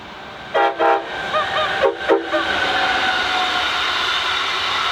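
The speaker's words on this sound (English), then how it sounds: "First up is the train wrapped for NYU Langone Health, also known as BrightPurple." A Brightline passenger train horn sounds in two short bursts, then the northbound train rumbles steadily past at moderate distance in Brevard County, Florida, its noise lingering to the end.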